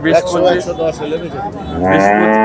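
A cow at a busy rural cattle market lets out loud, close moos, one drawn-out call and then a second that rises, with no speech over them.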